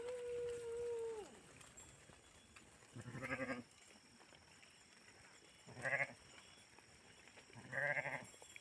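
A flock of sheep grazing on hillside pasture after long-awaited rain, with three distinct bleats spaced a few seconds apart over a quiet outdoor background, moderately close. A brief tonal call sounds at the very start.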